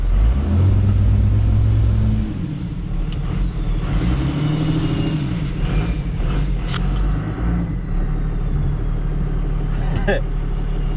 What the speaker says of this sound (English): So let's see if it'll rev. Diesel with 2-step.